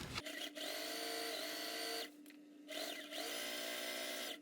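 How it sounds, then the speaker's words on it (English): A sewing machine runs in two steady motor bursts, stitching down the edges of a fabric strap for a ruffled bag about an eighth of an inch from the edge, with a short pause between runs and no talking. "I'm going to go and stitch down the edges"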